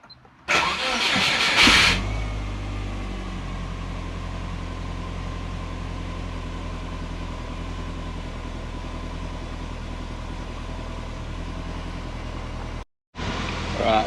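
A car with a laptop-tuned engine cranks briefly and fires up, then settles into a steady, low rumbling idle that holds for over ten seconds before a brief break.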